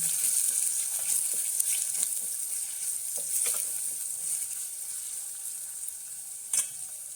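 Finely chopped onion frying in a pan, a continuous bright sizzle that holds steady and close, with a few soft stirring taps and scrapes scattered through.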